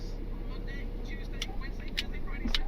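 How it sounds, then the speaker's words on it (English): A tow truck's wheel lift is lowered beside a Toyota Tacoma, heard as a steady, fairly loud mechanical drone with a few faint clanks and knocks near the end. "now we can lower our wheel lift down"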